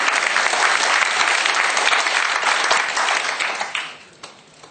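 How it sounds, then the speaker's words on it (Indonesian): Seminar audience at an online business and internet marketing event in Indonesia applauds, a dense, steady wash of many hands clapping that thins and fades out near the end. "beri tepuk tangan untuk Habibi."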